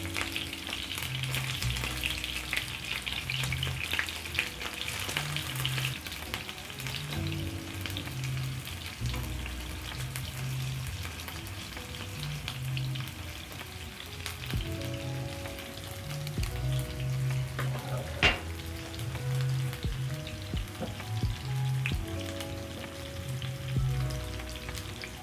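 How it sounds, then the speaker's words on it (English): Honey garlic beef meatballs frying in a pan as they are turned, with a continuous close sizzle and intermittent scraping and knocking from stirring, no voices. "I'm going to check on my meatballs and turn so that they can cook the other side"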